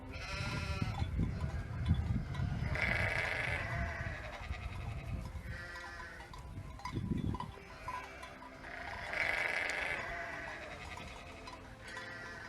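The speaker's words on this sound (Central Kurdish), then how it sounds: "مەڕوو بزن بەیەکەوە و لە هەمان کەرددا ئاراستە دەکرێن" A mixed herd of sheep and goats bleating, several overlapping calls at moderate distance recurring every few seconds over a shuffling, rustling background, with possible faint cowbell.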